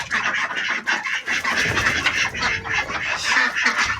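Ducks quacking close by in a yard where a new rooster is kept, rapid raspy calls repeating over one another almost without pause, fairly loud with no talk.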